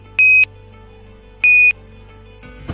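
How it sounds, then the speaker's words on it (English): Two steady electronic beeps, each lasting about a quarter second, spaced just over a second apart over a low background hum. "followed by an alarm declaring a mass oxygen inflow"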